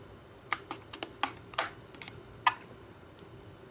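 A series of sharp, close plastic clicks and snaps, irregularly spaced, as the hinged cover of an Apple QuickTake 100 digital camera is pried and clicked open, with no talking.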